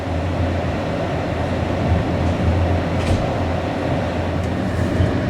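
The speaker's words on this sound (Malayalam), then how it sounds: "വളരെ സൗകര്യപ്രദമായ ഒരു ട്രെയിനാണത്." Train travelling through the Austrian countryside: a steady, loud, even rumble of rolling carriages with a constant low hum throughout and no voices.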